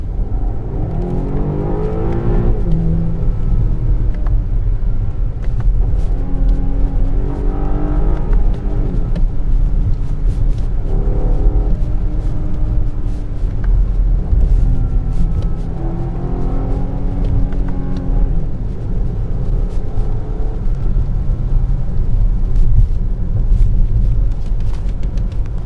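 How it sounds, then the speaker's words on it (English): BMW X6 M Competition (2020, F96) engine in sport mode without sound enhancement, heard from the cabin with repeated rising revs and gear changes over a steady road drone, no talk. "In sport mode, but without the sound enhancement, the engine sounds a bit clinical"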